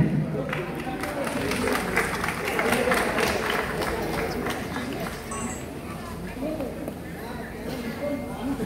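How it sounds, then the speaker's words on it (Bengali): An award-ceremony audience at the OTT Samman season 2 event applauds steadily for the whole stretch, a dense, even wash of clapping mixed with crowd noise and voices. "আবার একবার জোরে হাততালি হয়ে যাও for Priyanka Sharda"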